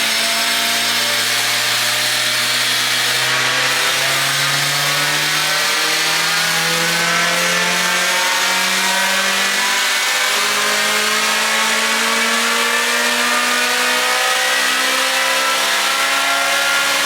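Stock Lotus Exige engine pulling hard on an all-wheel-drive dyno in third gear, a loud sustained rev climbing steadily in pitch for the whole run, no voices over it.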